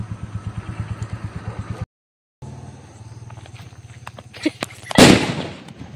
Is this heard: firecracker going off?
yes